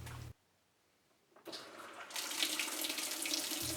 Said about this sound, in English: If the washer starts taking hot water, then you know that cycle is okay.